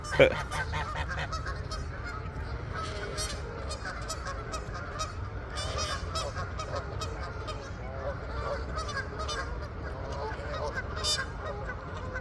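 A flock of geese honks continuously and loudly nearby during a November walk, with overlapping calls filling the whole stretch and occasional sharper cries standing out.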